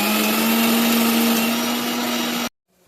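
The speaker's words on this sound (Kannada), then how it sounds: "ಅರಿಶಿನ ಹಾಕಿ ಮತ್ತೆ ರುಬ್ಕೋಬೇಕು." A kitchen mixer grinding a paste with turmeric for buttermilk curry (majjige saaru), a loud steady whirring drone that runs alone and then cuts off abruptly near the end.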